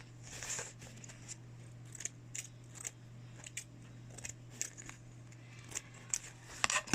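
Worn, poor-quality scissors cutting fabric for a homemade mask, a series of crisp close snips at an uneven rhythm, louder toward the end, over a quiet steady hum with no talking.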